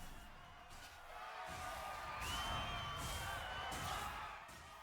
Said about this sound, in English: If I walk into here, there's the crowd noises.